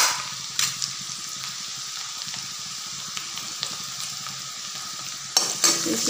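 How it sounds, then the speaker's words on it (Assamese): Ginger and garlic paste sizzles steadily in a hot pan for a raw banana curry, with a few scraping stir strokes and a louder clatter of the spoon near the end; no talking. "এইখিনি মই এতিয়া ভালদৰে ভাজি ল'ম ৰঙা হৈ যোৱালৈকে ভাজি ল'ম"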